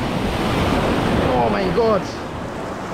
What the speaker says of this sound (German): Oh mein Gott, da ist eine Monsterwelle.